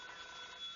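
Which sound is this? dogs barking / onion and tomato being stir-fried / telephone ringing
telephone ringing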